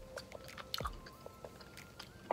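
Close, quiet chewing and soft crunching bites while tasting a homemade lunch, irregular mouth sounds repeating over a couple of seconds with no talking.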